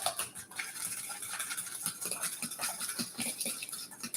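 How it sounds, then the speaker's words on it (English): A fork briskly stirs raspberry upside-down cake batter in a bowl, a close, continuous rhythm of quick scraping clinks and wet mixing strokes with no talking. "Now you can do this with a whisk, or what I like to use is a fork"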